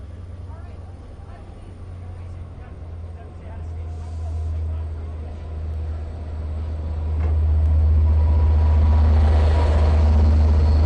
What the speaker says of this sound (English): train is now moving forward, and it will stop again to platform the rear 6